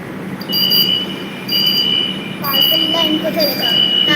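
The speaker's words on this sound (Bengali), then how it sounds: "ওই ট্রেনটা যাচ্ছে চোখার দিকে গেল ট্রেনটা" A Kolkata Metro Purple Line train passes, giving a steady rumble with thin, high metallic whines and squeals that rise and fall. Faint voices murmur in the background throughout.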